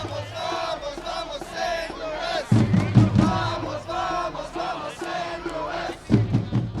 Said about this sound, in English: The atmosphere before a St. Louis City SC home match is filled with singing, drums, horns, and a parade of the 7 supporters groups into the stadium.